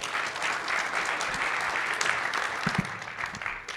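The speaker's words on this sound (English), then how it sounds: "So let's all please give Keegan a big round of applause" An audience at a sports analytics conference session applauds to welcome a workshop presenter. The clapping is dense and sustained, loud and close, with a few brief lower bumps near the end.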